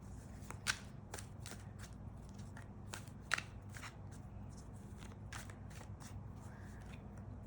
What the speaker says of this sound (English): 9 more shuffles